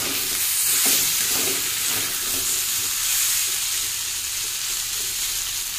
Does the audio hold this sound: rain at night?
no